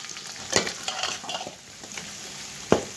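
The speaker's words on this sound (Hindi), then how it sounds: "अब इसको मिक्स कर लेना इस तरह से।" Bong paya being stirred with turmeric, salt and red chilli in a pot, close and moderately loud, with sizzling, wet scraping and occasional sharp clanks of the spoon against the metal over a few seconds, and no talking.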